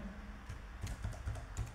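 Keys on a computer keyboard being typed while entering text into Microsoft PowerPoint, a quiet, irregular run of soft clicks and taps at close range with no talking.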